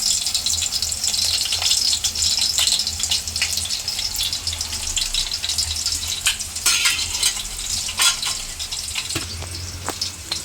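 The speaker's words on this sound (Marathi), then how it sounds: "तेल पण गरम झालंय, आवाज येतोय." Hot oil sizzling steadily in a pan while mutton is cooked, with a continuous bright crackle and occasional pops, close and fairly loud, with no talk.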